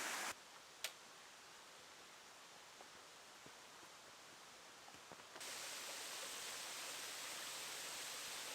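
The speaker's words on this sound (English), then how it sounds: "you can see we're at the top of the waterfall" Steady broadband rush of a waterfall from the top of Bridal Falls on the Franconia Ridge hike, a continuous hiss that swells louder partway through, with a couple of faint ticks and no talk.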